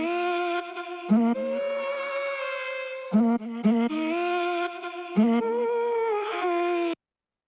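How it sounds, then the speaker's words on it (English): Short chopped vocal notes, sustained synthetic-sounding tones cut off abruptly in a stuttering rhythm, playing alone with no talking. "And afterwards we have the vocal chops."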